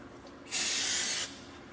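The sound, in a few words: spraying brake cleaner on new brake shoes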